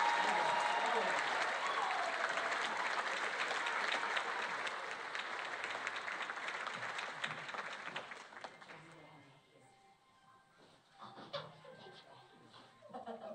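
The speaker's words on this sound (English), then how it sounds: "can we get another round of applause for all those incredible teachers?" Audience applause for teachers at a county Teacher of the Year celebration, a dense, loud crowd clapping with some laughter that fades after about nine seconds into quieter scattered sounds.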